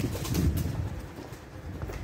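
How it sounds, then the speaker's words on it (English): A pigeon coos a few times at close range inside an abandoned pub, its low throaty calls strongest at the start and then fading into quiet room ambience. "Goddamn bloody pigeon."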